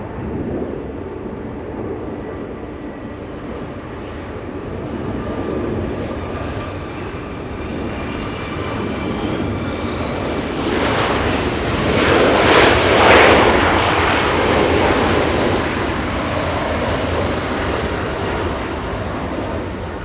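A jet airliner taxiing at Los Angeles International Airport, its engines a steady broad roar and whine that swells louder through the middle as it passes nearby, with a rising whine partway through.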